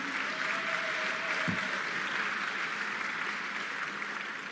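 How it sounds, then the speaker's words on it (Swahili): An audience at an awards ceremony for young journalists applauds steadily, a sustained wash of clapping that holds at an even level from start to finish. "tuwapigie makofi mengi sana"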